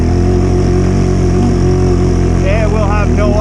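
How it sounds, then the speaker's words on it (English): Automatic Honda Rubicon ATV engine running in deep snow, a loud, steady, close drone that holds throughout, with a voice speaking over it near the end. "If you're driving a automatic Honda in deep snow like this, you gotta run the electronic shift on it."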